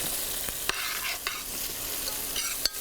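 Chopped Virginia bacon frying in a pan, a steady broadband sizzle with a few sharp pops and clinks of a utensil, close and alone.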